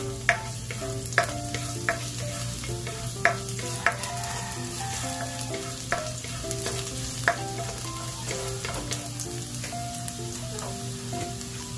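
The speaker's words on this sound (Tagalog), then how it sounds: "Lagay na natin yung ating garlic." Garlic fries in a pan for spicy tuna pasta with a constant sizzle. Sharp clicks and scrapes of stirring recur throughout, with no talking.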